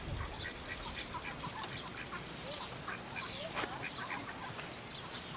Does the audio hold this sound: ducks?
yes